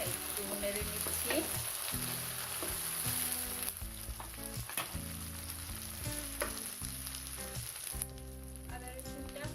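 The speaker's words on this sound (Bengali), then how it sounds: "এখন আমি এখানে দিয়ে দিচ্ছি সামান্য একটু আদা রসুনের পেস্ট, দিয়ে ভালো করে একটু নেড়ে নিচ্ছি।" Onion frying in a pan with ginger-garlic paste for fried rice, a steady loud sizzle running throughout, broken by repeated scraping strokes of stirring.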